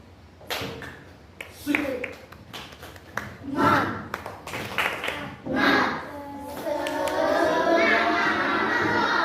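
A burst of group hand clapping in a quick patterned rhythm, a classroom cheer clap, loud and close, with voices talking before and cheering rising after.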